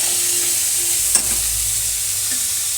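Potatoes stirred in hot oil with ginger paste, coriander paste, green chillies and tomato for potol torkari, a loud steady sizzle with one brief scrape of the spoon.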